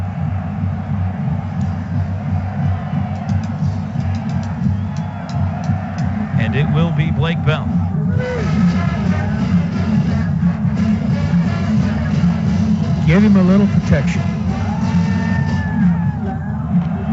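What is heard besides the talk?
stadium crowd noise at Oklahoma State football game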